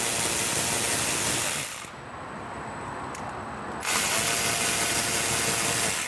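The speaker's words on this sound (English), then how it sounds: "So I have a power ratchet, makes the job a little easier." A power ratchet loosens 10mm bolts on a Vespa smallframe cover, giving a close, loud whirring buzz that briefly drops away and then resumes, with no talking.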